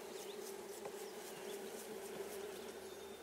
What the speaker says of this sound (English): I'm just going to sweep these bees off as best I can.